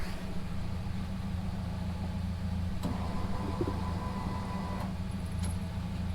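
A Nissan S15 engine runs at a steady, low, rumbling idle, close and constant, with a few faint clicks and taps on top.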